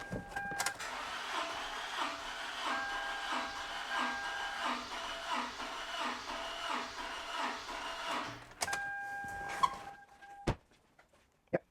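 A car engine cranks steadily on the starter during a cylinder compression test, a loud rhythmic churning with about a dozen even pulses, then it stops abruptly, followed by a few sharp clicks and knocks.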